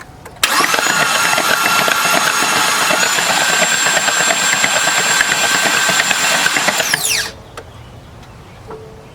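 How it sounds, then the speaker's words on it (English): A 2016 Ford F-150 with a 3.5 V6 that had been a dead engine cranks steadily on its starter for about seven seconds, a loud, continuous whirring drone close by that cuts off abruptly without the engine catching. "So that confirms that the ECU is telling the starter to turn over"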